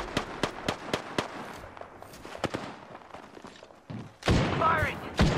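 Rapid bursts of gunfire in the video game Apex Legends, sharp repeated cracks in quick succession over a gritty background, then a louder whooshing blast near the end; a voice speaks briefly.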